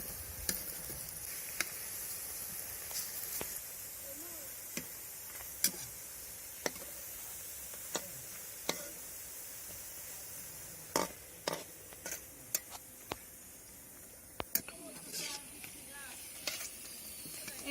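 Masoor dal fritters fry in oil for village-style cooking, with a faint, steady hiss and sizzle throughout and scattered sharp clicks and taps of a spatula against the pan.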